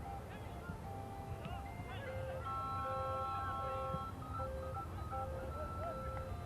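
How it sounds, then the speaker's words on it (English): An ice cream truck's melodic jingle drifts over a soccer match between the Pittsburgh Riverhounds and Philadelphia Union II, a tinkling tune repeating from a moderate distance beneath steady background noise and faint voices. "Is that an ice cream truck?"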